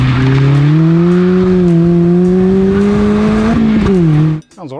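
A Mazda MX-5 Miata engine revs with a strong, steady rising drone that climbs gradually for about four seconds, dips briefly, then cuts off abruptly near the end; loud and close, no talking.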